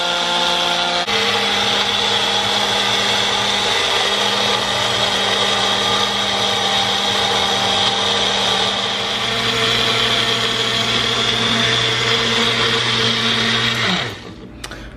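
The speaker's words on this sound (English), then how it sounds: "you're just going to put it into your magic bullet, press it down, and give it time to spin" A Magic Bullet blender whirs steadily at high speed as it blends a green smoothie, its loud motor whine holding constant for about thirteen seconds before spinning down and cutting off.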